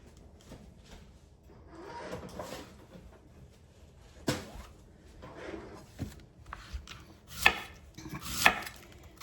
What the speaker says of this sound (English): we're going to cut the cabbage kind of fine because we want it to be tender